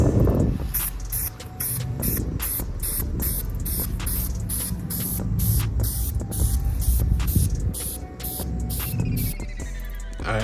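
Primer sprayed from a can onto DIY aero kit parts for an Evo X, heard as quick repeated hissing spray bursts in a regular rhythm over a constant low hum, close and fairly loud.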